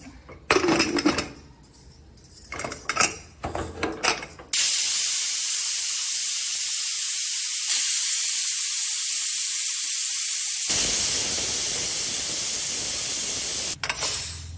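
A pressure cooker cooking cabbage rice gives a loud, continuous steam whistle that hisses for several seconds, preceded by clattering and rattling, then drops to a softer steady hiss.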